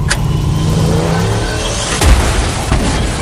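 A car engine revs and accelerates up close with a loud rising roar, and a heavy boom near the midpoint, all within a dramatized street scene amid fire.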